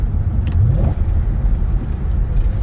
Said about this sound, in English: Little downshift.